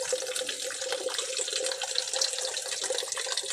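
Water running steadily while soil is rinsed, a constant close splashing rush with no talk.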